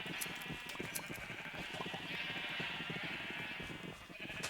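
Sheep in a Minecraft game bleat several times over a dense, busy background of in-game sound, faint and somewhat masked.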